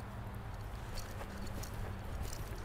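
A horse gallops during a show-jumping training session, its hoofbeats drumming in a steady, close rhythm over a heavy, rumbling background.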